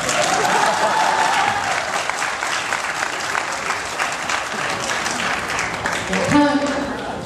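Audience applause at a press conference for Leon Lai and the 寰亞 (East Asia) media group, a steady dense clatter of many hands filling the room throughout, with a voice briefly speaking near the end.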